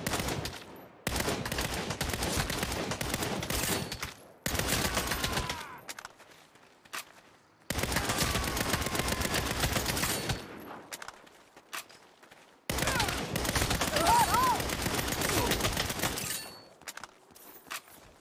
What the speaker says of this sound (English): time to pull out the big gun